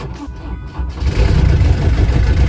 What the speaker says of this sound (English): I'm gonna flash up the motor